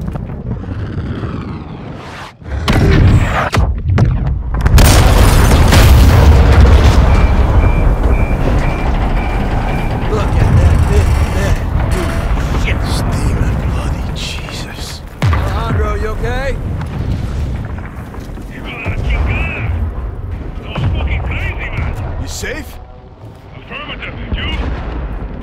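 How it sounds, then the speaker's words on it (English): Massive missile strike explosion destroying an oil rig in Operation Dark Water gameplay, a sharp blast swelling into a long, loud roaring rumble with debris and crackling, followed by radio chatter and beeping tones. "All stations, prepare for the boom."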